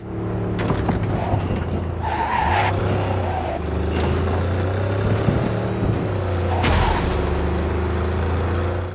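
A car in Cyberpunk 2077 drives through Night City with a steady engine drone, punctuated by repeated loud tire skids and squeals as it slides through turns, continuous and close throughout.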